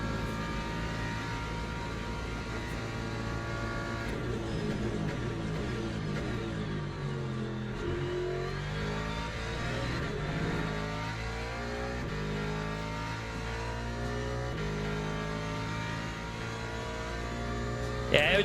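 A Ford race car engine in the Le Mans Ultimate racing game holds a steady, loud drone for a long stretch, its pitch rising and falling with revs and gear changes, with no talking over it.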